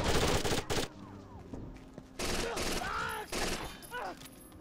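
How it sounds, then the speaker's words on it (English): Mac 11 gunfire in a first-person video game, with short rapid bursts of automatic fire separated by gaps, sitting close and loud among other in-game sounds. "Tom, busting out the Mac 11"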